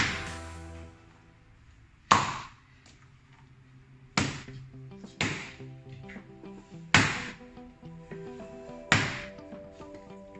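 A mass of dough is kneaded heavily and slammed down, producing about five loud, hard thuds spaced roughly two seconds apart, each with a short ringing decay over a quiet background.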